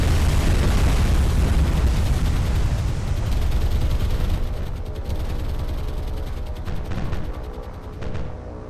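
In the naval combat game War on the Sea, a rocket launch and explosion bursts out as a loud, deep roar that slowly fades into a rumbling tail, with no voices.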